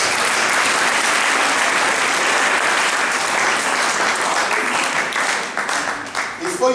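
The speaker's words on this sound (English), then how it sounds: "Clap your hands for Jesus." A church congregation clapping hands during a revival service, loud continuous applause that holds steady before breaking into scattered claps near the end, with voices mixed in.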